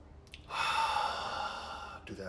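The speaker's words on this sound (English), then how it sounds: "Let's hear that breath in the throat, that victorious breathing" A single Ujjayi breath drawn audibly through a constricted throat, a close, soft hissing rush that swells after a brief pause, holds for about a second and a half, then tails off, with no talking.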